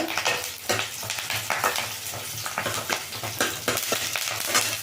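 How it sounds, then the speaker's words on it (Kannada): Onion, chillies and curry leaves frying in a pan, with a continuous close sizzle and repeated stirring scrapes throughout, and no talking. "ಈಗ ಇದೆಲ್ಲ ಸ್ವಲ್ಪ ಫ್ರೈ ಆಗಿದೆ ಇದರಲ್ಲೇ ನಾನು ಸ್ವಲ್ಪ ಕರಿಬೇವು"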